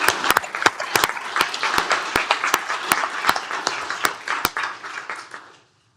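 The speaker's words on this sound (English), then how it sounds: "How about a big round of applause for Aaron Barnes?" Applause at a county commissioners court session, a crowd clapping steadily with sharp, loud individual claps standing out close by, then tapering away and fading to silence.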